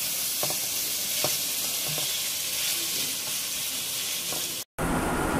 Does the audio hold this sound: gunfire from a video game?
no